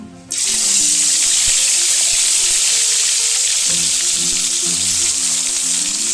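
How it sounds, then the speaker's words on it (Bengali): Folui fish frying in hot mustard oil, a loud steady sizzle that bursts in as the fish goes in and holds continuous and close, with faint clinks beneath. "তেলটা গরম হয়ে গেছে, এবার আমি মাছগুলো দিয়ে ভেজে নেব।"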